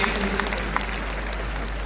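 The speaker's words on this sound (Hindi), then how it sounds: "एक बार बहुत जोरदार तालियों से आप सभी का अभिनंदन।" An audience at an RCM anniversary program gives a short burst of applause, scattered claps sounding over a steady hall background, moderately loud and brief.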